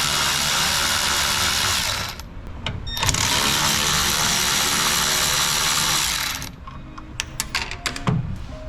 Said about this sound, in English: we're going to use a T15 Torx, and we're going to remove the factory bolt.